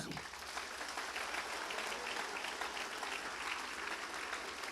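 A church congregation applauds during a sermon, a continuous even wash of many hands clapping together, fairly distant and soft, with a few murmurs mixed in.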